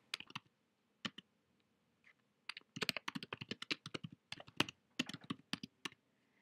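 Typing on a computer keyboard while naming a patient group in clinic software: a few isolated key taps, then a quick run of clicky keystrokes, close and clear in a quiet room.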